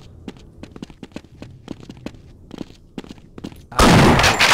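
Shotgun fire in the video game Half-Life: a string of sharp, evenly spaced clicks and shots, crisp and close, ending in a sudden loud, sustained roaring blast.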